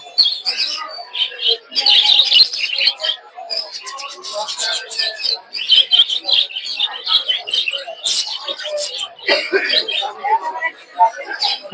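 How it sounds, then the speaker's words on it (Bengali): Budgerigars at the Mirpur 1 bird market chirp and tweet in dense, busy bursts, close and loud, while people talk and cough nearby. "এখানে কিছু বাজিগার আছে"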